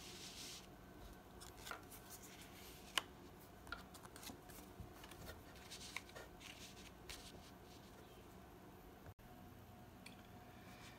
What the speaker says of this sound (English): Then the Ventura deck is shuffled.